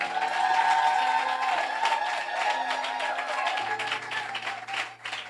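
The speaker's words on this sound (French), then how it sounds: "Est-ce qu'on peut acclamer sa majesté Jésus-Christ de Nazareth?" A church congregation applauds and cheers in acclaim of Jesus Christ, a dense continuous wash of clapping and voices with sustained musical tones underneath, holding steady throughout.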